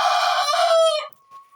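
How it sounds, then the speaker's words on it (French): An old Araucana rooster calls once, close and loud: a strained, harmonic call lasting about a second, ending in a thin, fading tail. "vieux coq araucana."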